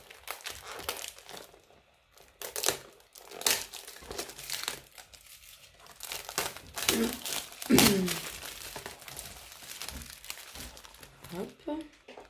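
A packet of summer tea is torn open by its pull tab, giving close crinkling, rustling and tearing of plastic wrap in irregular bursts, with a person talking quietly in between.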